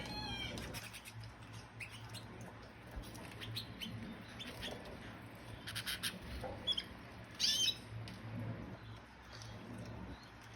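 Pet canaries peck and squabble over lettuce in a cage, giving faint, scattered chirps and tweets with soft rustling and a few brighter calls near the end.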